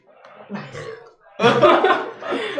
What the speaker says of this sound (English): Burps. Can you guys hear it?